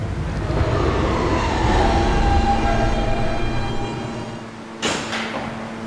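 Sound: H subway train via E line running

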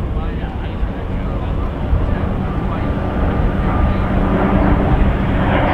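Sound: P-51D Mustang aircraft flying at airshow

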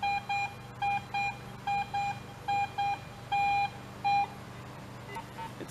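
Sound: AT Pro metal detector signal beeping over a target

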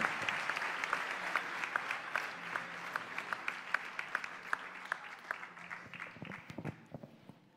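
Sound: applause at sports awards gala

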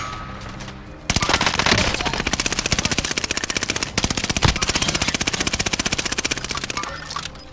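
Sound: machine gun fire in a video game

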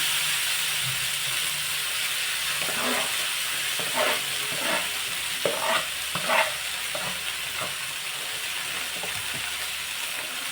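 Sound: sautéing chopped dill greens in oil

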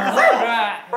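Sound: person imitating a dog barking

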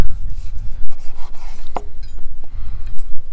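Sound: knife slicing cooked beef tenderloin

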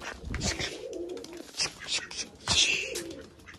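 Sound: pigeons cooing

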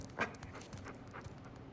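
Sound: dog panting in video game Uncharted 4

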